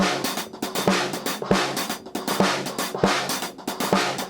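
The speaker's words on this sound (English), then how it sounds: "So you can hear it's kind of like a distorted drum loop," A fast, gritty, heavily filtered and distorted drum loop built from hi-hats and snare hits, thin with no kick drum, repeating busily and fairly quietly.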